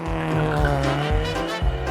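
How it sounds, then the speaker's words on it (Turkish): A remote control toy car drives with a steady, loud motor whine, and its pitch shifts slightly as it runs close by, with no talk over it. "Vay canına uzaktan kumandalı araba."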